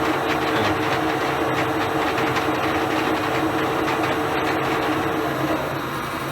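A metal lathe spins at 445 RPM in low gear in a workshop while its drives and feeds are being commissioned, giving a steady loud mechanical whir and clatter with a constant hum and no breaks.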